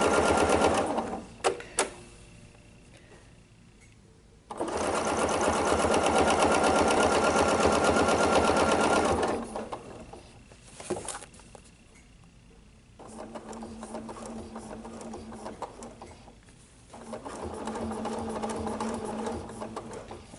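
A sewing machine stitches a quilted table runner in bursts of steady motor whirring, with short pauses and faint handling clicks between runs of stitching.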